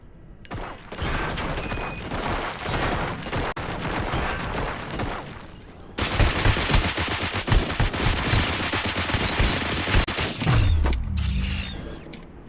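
Sustained gunfire in the RoboCop video game, a dense stream of rapid shots and mechanical clatter that grows louder and heavier partway through, with no talking.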